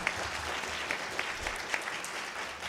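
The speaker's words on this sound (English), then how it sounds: "Can we get a big round of applause for Midshipman Finn?" Audience applause at an Awesome Con 2022 convention panel, a steady wash of clapping from a crowd with a few sharp individual claps standing out.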